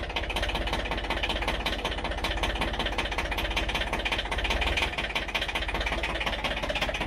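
A small Yanmar tractor engine idles steadily up close, a continuous low, knocking diesel chug with even loudness throughout and no talking.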